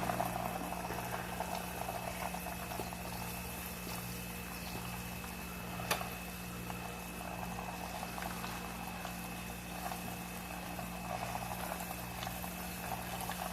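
Butter boiling in a pan on a stovetop burner while being browned, a steady close bubbling and sizzling hiss with occasional sharper pops, continuous and alone over a low background hum.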